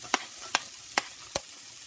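Chopped onion goes into a hot pan over a low steady sizzle, with four sharp, evenly spaced taps of a utensil against the pan punctuating it.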